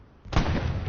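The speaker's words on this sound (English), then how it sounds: "that was a beautiful explosion, and Panzer IV has been deleted" A Panzer IV tank blows up in a competitive World War II video game match, a sudden loud boom that lands partway through and rolls on as a sustained rumbling blast.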